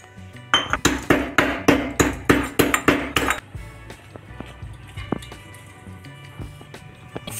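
Five cardamom pods are pounded for a jaggery and fresh coconut modak filling: about ten quick, ringing metallic strikes in a steady rhythm, followed by scattered lighter taps.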